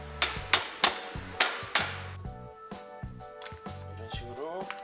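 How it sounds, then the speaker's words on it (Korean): Sharp metallic hammer blows strike a wooden block held against a ring while fitting parts on a Yamaha 115 hp outboard engine, five loud close hits at a steady pace, then lighter taps and clinks of a spanner. "휘어짐을 방지하고자 나무를 대고 치는 겁니다"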